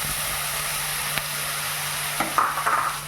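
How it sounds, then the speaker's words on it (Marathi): Grated beetroot dropped into ghee in a kadai, a steady faint sizzle with a brief clatter and then louder crackling bursts as it hits the hot fat, close up with no voices. "एक वाटी बिटाचा किस घेतलेला तर तो टाकून घेऊया"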